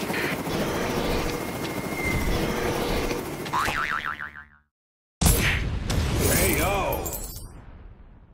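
An aircraft sound from the mobile game Kick the Buddy 2 plays as a loud whirring rotor drone with springy boing effects, a sudden cut to silence, then renewed blasts and whooshes alongside game voices.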